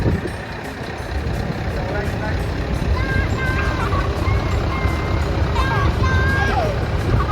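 A Dodge tractor unit rolls past at a steam rally, its steady diesel drone loud and close, with an announcer talking over it and intermittent tonal beeps in the background.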